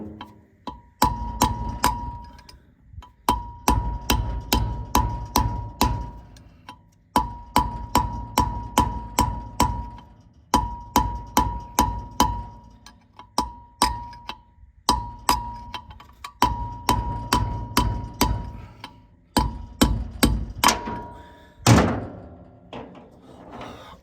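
Repeated metal-on-metal hammer blows drive the outer bearing race out of a trailer wheel hub, struck in rapid bursts of sharp, ringing hits with brief pauses between runs, close and loud.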